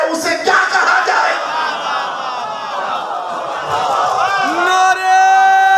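A large crowd at a Shia religious gathering chants slogans in unison, loud, dense and close. The voices swell into sustained shouted calls toward the end.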